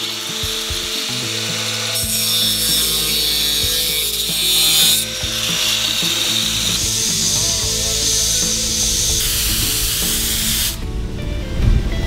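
A power grinder works on the underside of a dinghy, grinding out a hole with a loud, sustained, harsh whine that shifts in pitch as it bites, then briefly cuts out near the end.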